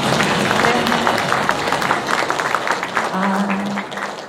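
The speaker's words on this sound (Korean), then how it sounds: "힘내시라고 박수 한 번 더 부탁드리겠습니다" A crowd claps for a speaker in a wheelchair at a Korean gathering, a loud steady patter of applause with a voice and some tonal sound rising over it briefly.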